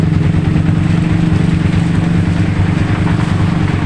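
A Yamaha Vixion New NVL motorcycle that stalls when revved sits idling nearby, a loud, steady low rumble with even pulsing and no throttle changes.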